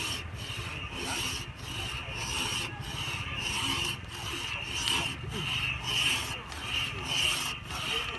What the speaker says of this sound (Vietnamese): họ đang cưa cái lỗ, tạo một cái lỗ để kết nối những cái cây lại với nhau